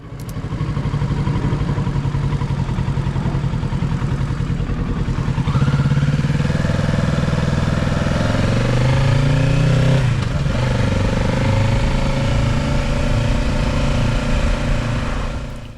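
A 2025 Kawasaki Ninja 650 motorcycle makes a slow-moving U-turn, its engine holding a steady low rumble near idle that lifts briefly partway through and then settles back, with no talking.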